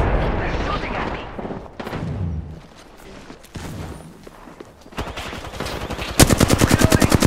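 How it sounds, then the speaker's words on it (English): Enemy gunfire in Apex Legends: scattered shots and bursts under a man's speech, building to a loud, rapid automatic volley at the end. "They're shooting at me."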